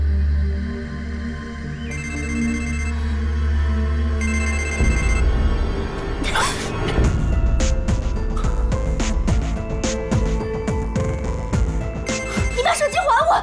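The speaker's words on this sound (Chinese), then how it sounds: "接电话，清凌。" A mobile phone rings with repeated electronic ringtone bursts in an indoor drama scene, followed by louder clattering and movement noises.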